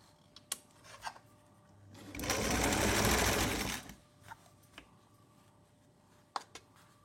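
A sewing machine stitches the hem of a shalwar with canvas inside, a close, fast mechanical whir running for about two seconds, framed by scattered clicks and handling taps.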